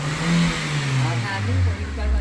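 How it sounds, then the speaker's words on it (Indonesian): A car engine runs after its fuel injectors have been cleaned, a smooth mid-pitched hum that rises and dips slightly, close, with a voice talking over it. "Setelah selesai, suara mesin super halus."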